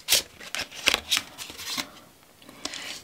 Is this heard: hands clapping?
no